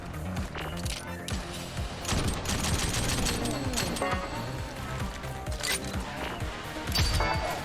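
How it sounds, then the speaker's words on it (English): Dense video game combat from Rollerdrome, with rapid weapon gunfire, cracks and crashes from enemies layered over a busy soundtrack, loud and continuous throughout. "Where I think Rollerdrome's sound really excels, though, are the enemy and weapon sounds."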